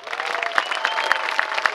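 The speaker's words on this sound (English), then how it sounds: "So let's give them a big round of applause." A crowd applauds the Pilgrim Tallship crew at an outdoor seaside grand opening, steady moderate clapping with a few sharper individual claps standing out, somewhat distant.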